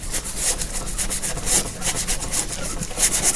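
A stiff brush scrubs a thin coat onto a surface, giving a close, steady run of rough rubbing strokes in quick rhythm with no talk.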